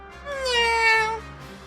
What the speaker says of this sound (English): Oh, just a stupid cat.